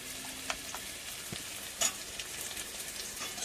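Turmeric powder, salt and spices sizzle steadily in hot oil in a pan, with a few soft scrapes and taps of stirring breaking through the continuous hiss.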